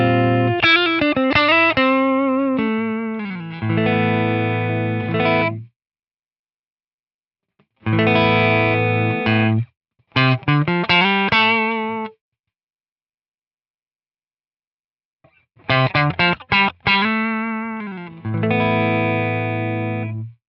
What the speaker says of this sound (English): you can get a little bit of a doubling effect there